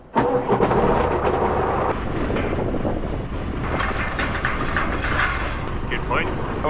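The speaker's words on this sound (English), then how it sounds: "Right, fire the tractor up." A farm tractor engine fires up and settles into a loud, dense rumbling idle close by, with faint background sounds mixed in.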